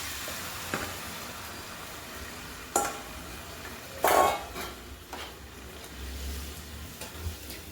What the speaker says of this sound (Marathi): सगळे एकत्र मिक्स करून घेते मटण पण याच्यात टाकून देते आता